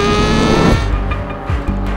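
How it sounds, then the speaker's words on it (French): A Honda CBR 1000 RR-R SP sport motorcycle's inline-four engine roars steadily with a harsh, buzzing tone, pitch shifting briefly as it revs, close and continuous with no talking. "au-delà du bruit, le moteur vous arrache les bras dès que vous passez les 8000 tours minutes"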